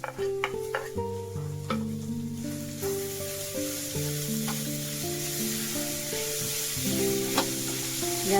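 Chopped cucumber, capsicum, carrot and onion fry in a pan, a steady soft sizzle with occasional stirring running under continuous background music throughout.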